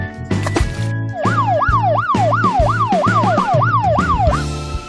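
Police car siren wailing in a fast, repeating rise-and-fall sweep, loud and close, with a short burst of other vehicle tones just before it.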